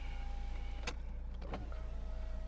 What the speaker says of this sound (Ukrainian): Склопідіймачі справні в автомобіля.